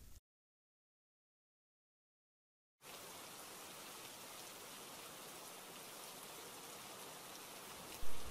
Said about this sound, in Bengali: মা দেখো, বৃষ্টি পড়ছে।